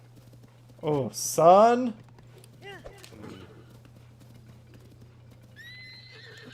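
A horse neighs loudly and whinnies in Zelda: Tears of the Kingdom, with hoof clip-clop and brief speech around it, then quieter game sounds and tones follow.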